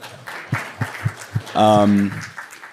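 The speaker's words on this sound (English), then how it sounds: "We can clap for that." A handful of separate, sharp claps ring out one after another at a mayor's address in Cleveland, then a voice briefly takes over as the clapping stops.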